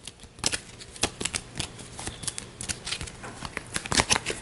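Arkham Horror LCG cards are shuffled by hand in a rapid, crackling riffle of papery flicks and snaps. The sound is close and continuous for several seconds with uneven bursts.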